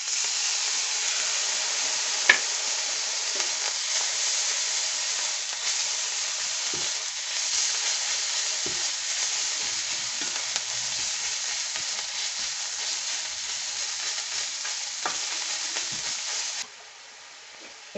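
Ginger and garlic paste fries in a pan with a steady, close, hissing sizzle that runs unbroken, marked by a few faint clicks of stirring before it drops off at the end.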